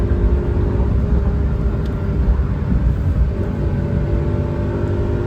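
A Mitsubishi Toppo BJ turbo four-wheel-drive kei car drives in third gear, its small engine holding a steady, droning hum under constant low road rumble from inside the cabin.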